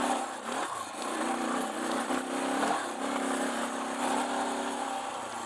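Suzuki DR650 dual-sport motorcycle engine running under varying throttle on a Mojave desert ride, a steady mid-pitched drone with rising and falling revs throughout, moderately loud with wind noise.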